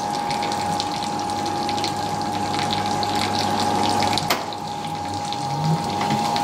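A Fisher & Paykel washing machine pumps out water while draining, giving a steady, continuous rush of gushing water over a constant pump hum. It runs unbroken throughout and there is no talking.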